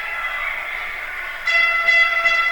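A referee's whistle shrills loud and sustained at an atom-level youth hockey game between Vaudreuil Titans and Kahnawake, a long continuous blast with a second layered tone joining near the end.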